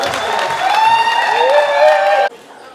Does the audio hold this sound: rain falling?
no